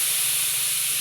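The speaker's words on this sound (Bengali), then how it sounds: "এবার এটাকে আমি ভেজে নেব।" Taro paste mixed with jackfruit seeds fries in a pan, giving a brief, even, steamy hiss with no distinct stirring strokes.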